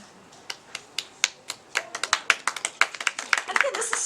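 Applause from a small audience after a poetry reading, starting as a few scattered claps and building into a steadier patter of hand claps close by.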